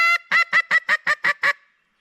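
A duck call, with its O-ring angled on the notches for a higher pitch, is blown to imitate a teal: eight quick, bright, nasal quacks in an even rhythm, loud and close with no talking.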